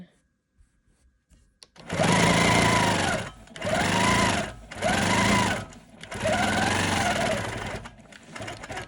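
A Janome Quilt Maker Pro 20 longarm quilting machine stitches a narrow strip of fabric in four loud, close bursts of rapid, even whirring, each run broken by short pauses.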